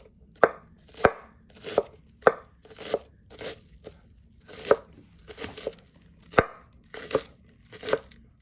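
A knife finely chops the soft stem of an eddo (taro) leaf on a board, about a dozen crisp, distinct cuts in a steady rhythm with short pauses between them, close and clear.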